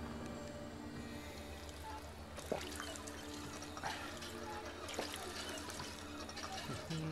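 Water is collected in Fallout 4 with soft pouring and splashing, plus a few brief clinks, faint and continuous over a low background hum for several seconds.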